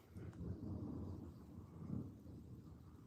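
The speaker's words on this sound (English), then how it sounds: "Yeah, I heard that thunder." Distant thunder rumbles low and steady, swelling slightly toward the middle, outdoors during a slow-paced workout, faint and with no talk over it.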